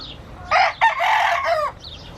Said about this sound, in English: These are all the roosters, you guys.